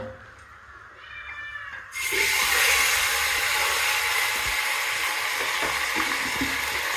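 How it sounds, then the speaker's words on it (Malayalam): Chicken dropped into hot oil in a pressure cooker for cooker chicken, a sudden loud broadband sizzle bursting in after a quieter start and holding steady to the end. "ഈ ചൂടായ എണ്ണയിലേക്ക് നമ്മൾ കോഴി വെക്കാൻ പോവുക"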